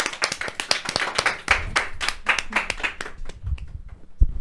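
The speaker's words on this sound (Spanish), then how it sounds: "te despedimos con un fuerte aplauso" A small audience at a faith talk show claps in sharp, distinct handclaps, a few people close by, fading into scattered claps toward the end.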